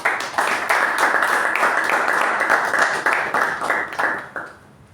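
Audience at a club meeting giving a round of applause, close and fairly loud clapping that swells, carries on steadily, then thins out and fades near the end.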